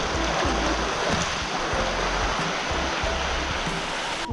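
Thusharagiri waterfall pours cold water in a steady, close, full roar that continues unbroken, with no voices over it.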